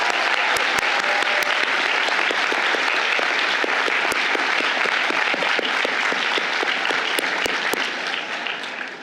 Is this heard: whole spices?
no